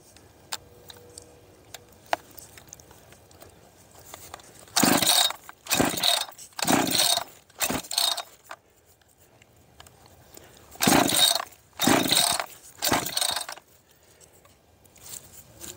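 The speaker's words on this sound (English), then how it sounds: "So let's do a cold start on this saw and see how quickly it fires up." Cold G288 chainsaw being started: several short bursts of rough, loud engine noise, each lasting about a second, in two groups of three to four, separated by quiet gaps and faint handling clicks.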